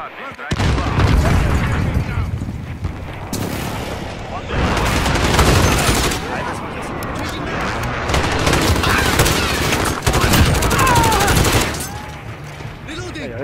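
Gunfire in a team deathmatch shooter rattles nonstop with heavy booms and bursts of automatic fire, loud and dense throughout the whole stretch.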